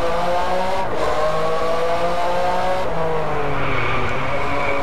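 Ferrari F50 in the racing game Driveclub, engine roaring loud and close with rising revs and gear shifts, brief tire squeal as it corners, continuous throughout.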